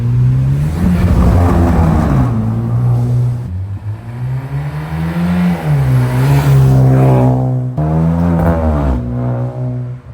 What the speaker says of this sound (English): the exhaust definitely sounds a lot deeper than normal